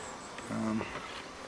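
Honeybees in an opened hive give one brief, faint buzz that swells and fades within a fraction of a second against quiet outdoor background.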